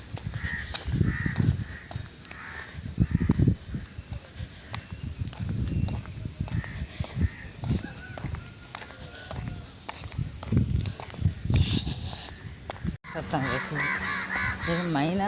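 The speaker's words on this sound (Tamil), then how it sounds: "காக்காய்கள் மட்டும்தான் கத்திக்கிட்டு இருக்கு இன்னைக்கு" Several crows caw repeatedly at a moderate distance during an early morning walk after rain, with footsteps and occasional voices in the background.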